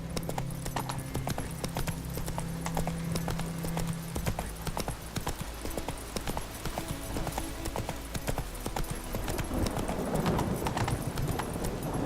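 Horse hooves clip-clop steadily at a gallop across the whole stretch in The Witcher 3, with a brief neigh and game ambience building toward the end.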